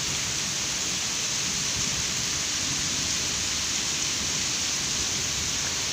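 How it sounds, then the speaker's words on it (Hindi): Heavy rain falls steadily at a new home in a dense, even hiss that holds without a break, with no talk over it. "कितनी ज़ोर की बारिश हो रही है।"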